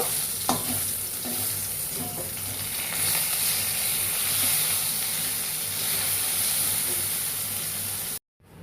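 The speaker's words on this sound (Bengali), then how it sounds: "মাছের মাথাটা এপিট ওপিট করে ভেজে নেব।" A fish head sizzles steadily in hot oil, a continuous frying hiss with a few soft clinks, ending suddenly.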